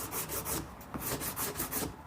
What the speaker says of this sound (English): This seems dry enough to sand